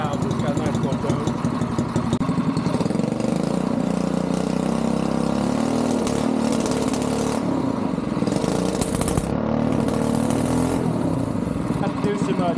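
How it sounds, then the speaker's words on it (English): A custom adult-size go-kart engine putters at a steady idle nearby through a small muffler, its muffled buzz holding even with slight wavering in tone. "it's got a nice little tone"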